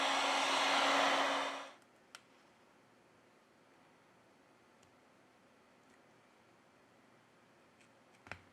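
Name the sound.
heat gun heating OnePlus 6T phone screen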